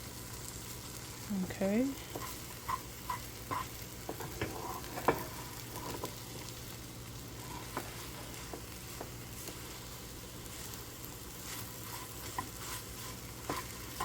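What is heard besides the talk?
eggs frying, moved around in the pan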